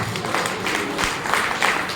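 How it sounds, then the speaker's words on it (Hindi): An audience claps and applauds in a dense, steady burst, loud and close, with no talking. "तो आप सबके लिए एक जोरदार ताली"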